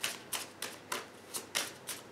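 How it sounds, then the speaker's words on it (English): Tarot cards are shuffled in a steady series of about seven crisp riffling bursts, evenly spaced and close by, with no talk. "Alright, we've shuffled the cards, Scorpio, and we're going to split the deck into 3 like so."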